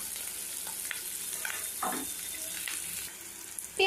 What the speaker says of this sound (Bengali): এটা আমি প্রথমে একটুখানি ভেজে নেব।